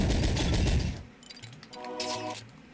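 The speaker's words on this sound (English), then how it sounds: "Flick back to the machine gun because we know who's in here." Machine gun fire in the retro first-person shooter Exhumed, a dense burst of rapid shots lasting about a second, loud and close, before giving way to quieter game effects.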